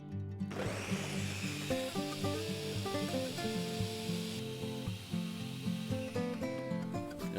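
A kitchen blender grinds kelp broth with chili peppers and apple, its motor kicking in after a short pause and then holding a steady, droning whir with shifting pitch, alone and fairly quiet.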